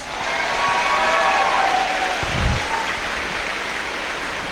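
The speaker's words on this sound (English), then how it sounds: "So let's give him a round of applause." A crowd in a high school gym at a 2023 graduation ceremony claps for a graduating senior, a steady broad hiss of applause with one low thump partway through.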